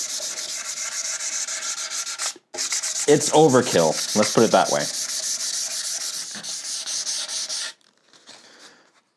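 Steady scratchy rubbing of hand sanding a wooden guitar body with 400-grit sandpaper, continuous for most of the clip, with a brief voice speaking partway through before it stops and fades to near silence.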